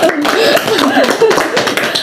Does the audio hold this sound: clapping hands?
yes